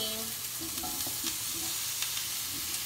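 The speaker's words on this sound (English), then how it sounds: "I'm going to start to add in my potatoes. Ooh, hear the sizzle just in between." Potatoes sizzle loudly in a hot cast iron pan, a constant hissing crackle up close, with a few faint clinks and scrapes over it.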